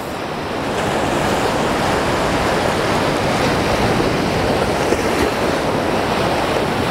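Sea waves rage and crash around rocks in a continuous, loud, close roar, with wind buffeting the microphone throughout.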